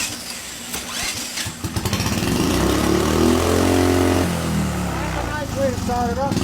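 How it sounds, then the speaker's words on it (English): A turbocharged engine running on 87 octane pump gas cranks over and catches, then settles into a loud, rising, throbbing run on a dyno, with a voice heard over it near the end. "This is gonna be the dyno run on 87 octane pump gas."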